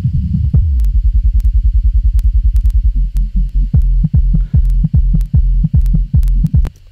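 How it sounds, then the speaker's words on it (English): Deep, muffled low-end music with only thumping bass pulses left, a steady rapid throb that slows into spaced heavy hits, no treble at all. "I'll just cut out all the high end and then I'll just listen to the low end."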